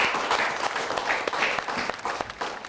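An audience at a Hindi poetry recital claps steadily for a poet's first reading. The applause is a moderately loud, dense patter throughout.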